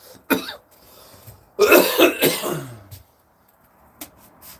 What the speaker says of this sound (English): got a bit of the chronic cough in here